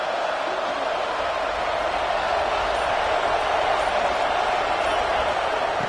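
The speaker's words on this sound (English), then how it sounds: "wow, listen to this crowd noise. This stadium is vibrating." A packed stadium crowd at an Ohio State versus Oregon college football game keeps up a steady, unbroken roar, dense and loud throughout with no single voice standing out.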